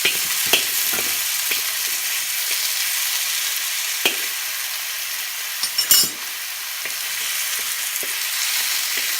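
Fish balls frying in a pan give a loud, continuous sizzle and hiss, broken by occasional soft clinks and a brief burst of spatter near the middle.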